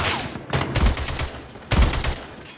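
Rapid automatic gunfire in Call of Duty multiplayer, two loud bursts of quick shots about a second apart, close and harsh, with no talk.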